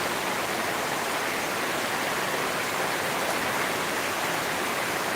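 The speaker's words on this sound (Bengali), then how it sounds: "বিরাট বৃষ্টি হচ্ছে" Heavy rain falls in a constant, even roar near a mango tree, a thick unbroken hiss with no talking.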